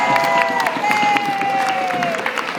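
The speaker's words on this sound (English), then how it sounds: "Ready? Give him a round of applause." A crowd applauds a volunteer at a mission gathering, a loud, sustained burst of clapping with some cheering and voices mixed in, and a whistle-like tone gliding through the middle.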